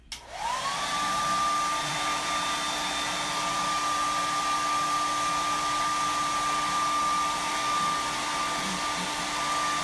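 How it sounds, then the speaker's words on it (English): Hair dryer blowing steadily on a wet Mod Podge napkin craft, switching on abruptly and then holding a loud, constant whine and rushing airflow without a break. "I'm going to hit this with the hair dryer right quick, because it's still really, really wet"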